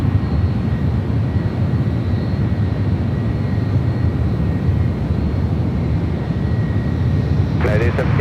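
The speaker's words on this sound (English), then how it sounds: "Delta A220-300 flight heading, I believe heading back to Salt Lake City" A Delta Airbus A220-300 jet airliner departs San Francisco airport, its engines a steady, broad rumble that holds evenly throughout, with a brief clatter near the end.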